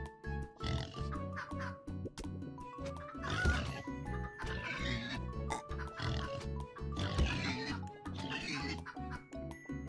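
Repeated grunting oinks from a pig in the video game Turnip Boy Commits Tax Evasion, mixed into a busy stretch of game music and effects.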